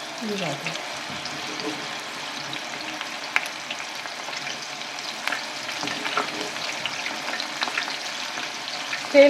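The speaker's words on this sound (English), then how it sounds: "I'm going to fry the next batch" Soya chunks deep-frying in hot oil in a home kitchen, a continuous fine crackling sizzle with scattered pops, steady and moderately close throughout.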